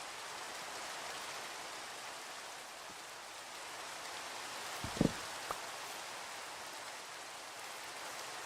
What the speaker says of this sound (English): Let's sleep to get rid of this rain.